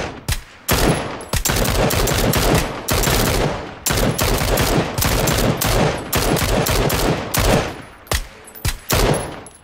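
Close, loud automatic gunfire in the battle royale game PUBG, rapid sustained bursts of shots with brief gaps between volleys.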